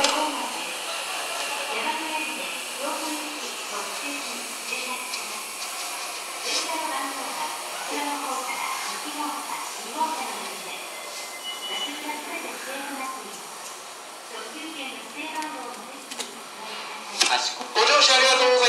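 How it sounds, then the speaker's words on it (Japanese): The Kintetsu Shimakaze limited express bound for Kashikojima pulls into a platform with a steady rolling rumble and brake hiss, while a station announcement plays over the train noise. "到着の列車は賢島行き特急島風でございます。"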